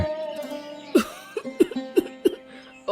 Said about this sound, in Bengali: একটু পরপরই কাশি হচ্ছে, ঘুমোতেও পারছি না